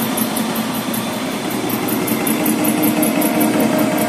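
A small boring mill with a 3-inch spindle making a roughing pass in the pinhole of a Cat 950 Z-link, giving a loud, steady mechanical drone with a constant whine and no pauses.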